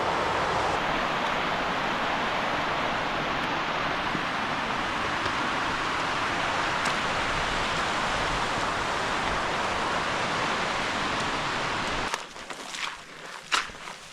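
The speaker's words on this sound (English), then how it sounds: "just reached the top of the waterfalls now" Rushing water from rain-swollen waterfalls on a Lake District fell roars as a broad, steady wash for about twelve seconds, then cuts out to quieter scattered outdoor sounds.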